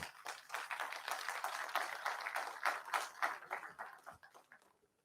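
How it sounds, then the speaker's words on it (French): Steady applause from a conference audience, dense overlapping claps that hold for several seconds and then thin out and fade toward the end. "Applaudissements, s'il vous plaît."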